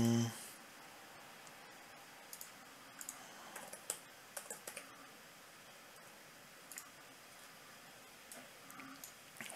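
A computer keyboard is typed on in scattered, irregular light keystrokes, faint and close, with soft gaps between short bursts.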